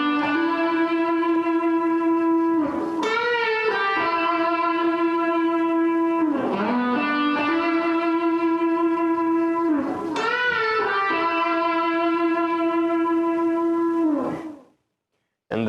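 Guitar playing the intro of a song, sustained distorted notes with three clear string bends that sweep the pitch upward, loud and close, ending abruptly in silence.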